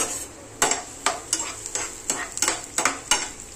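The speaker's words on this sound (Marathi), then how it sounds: "आता फर्स्ट टाइम मी कांदा भाजून घेते। हा कांदा चांगला भाजून घ्यायचा," Onion frying in a pan for homemade burgers, with a steady sizzle and about eight rhythmic scraping strokes of a spatula or spoon against the pan, close and clear.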